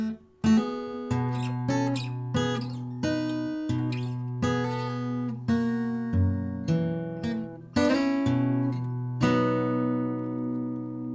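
Solo acoustic guitar plays a passage from a song, with plucked notes and chords ringing out over a sustained bass tone at a gentle, unhurried pace.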